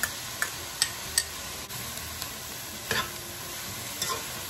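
Garlic and ginger sizzle in a hot pan under a steady hiss, broken by several sharp spoon scrapes and taps as they are stirred, close and clear with no talking.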